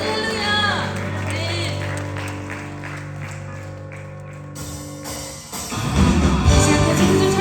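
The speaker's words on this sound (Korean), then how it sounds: "하나님께 영광의 박수 올려드립니다." Congregation applause breaks out at a young adults' live church worship service, a broad burst of clapping swelling in the second half over sustained music and voices.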